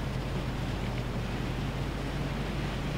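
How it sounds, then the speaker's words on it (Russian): Strong wind roars through Far Cry 3 during a hang-glider style descent, a steady, dense rushing blast with low buffeting rumble, loud and unbroken throughout. "Да не, ветер тут херячит еще как."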